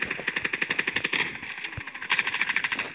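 Rapid automatic gunfire in the mobile shooter Standoff 2, a fast even burst of shots that pauses briefly and then resumes, loud and close with no talking.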